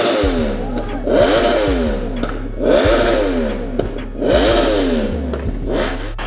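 A modified car engine revs hard in three repeated surges, its exhaust crackling and popping sharply as it shoots flames; loud and close, with a voice briefly heard over the engine.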